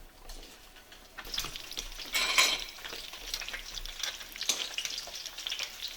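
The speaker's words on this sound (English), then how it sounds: "I'm gonna put them in and fry it" Poke wontons frying in hot oil, a dense continuous sizzle and bubbling that swells as they go in, with faint stirring and no talking.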